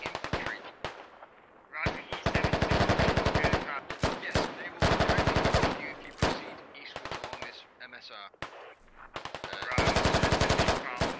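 Automatic gunfire in the military shooter game Squad, long bursts of rapid rattling shots broken by short pauses, loud and close, with a voice talking between some of the bursts.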